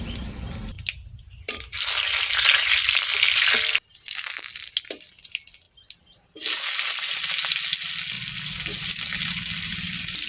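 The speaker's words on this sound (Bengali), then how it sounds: "তেল গরম হয়ে গেছে পাঁচ ফোটন দেবো শুকনো লঙ্কা দেবো" Panch phoron and dried red chillies sizzling in hot oil for a fish curry, loud bursts of hissing spatter that cut in and out, flaring sharply around the middle and then holding strong to the end.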